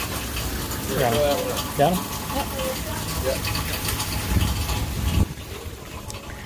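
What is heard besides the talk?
water being filled into jugs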